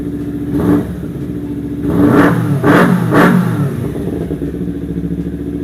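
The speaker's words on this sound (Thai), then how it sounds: "เสียงเครื่องนะครับนิ่มๆเลย" A 2013 Kawasaki Z250 motorcycle engine runs close by and rises in several quick revving bursts from a smooth idle, with no talking.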